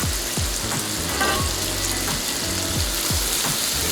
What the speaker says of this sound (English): And you'll hear it sizzle.